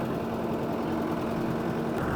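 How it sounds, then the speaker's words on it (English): A New Holland WorkMaster 105 low-profile poultry tractor engine runs steadily at a low, constant rumble, droning on without pause and with no talking. "Driving the New Holland low profile poultry special tractor."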